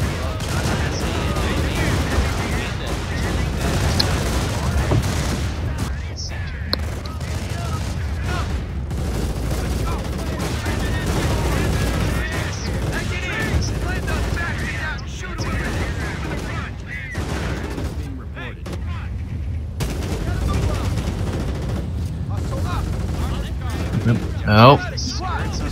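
Rapid gunfire from riflemen and grenadiers crackles through a real-time strategy game battle, dense overlapping shots and booms running steadily throughout, with a few sharper bursts near the end.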